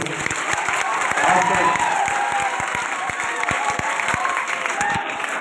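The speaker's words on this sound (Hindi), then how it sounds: "एक बार मेरे कहने से जोरदार तालियां बजा दो" Audience applause at a school function in an open, reverberant space, a steady wash of clapping that runs the full length with a faint hum of crowd noise beneath it.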